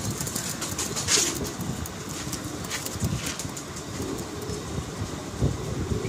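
Pigeons of a fancy breed cooing softly in a loft, with occasional wing flutters and a steady background hum throughout.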